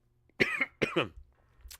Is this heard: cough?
yes